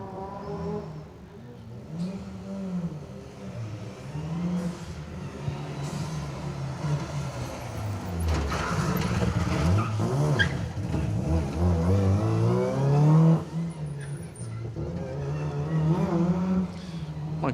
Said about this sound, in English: Steve Lawrence, Terry Martin enjoying throwing that little Honda Civic around